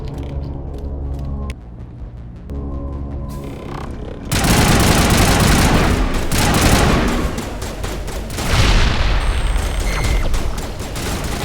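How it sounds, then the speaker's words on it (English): Mass Effect video game combat: grenade blasts and dense gunfire burst in after a mechanical stretch, loud repeated booms and rattling fusillades rolling on for several seconds with no voices. "I love grenades."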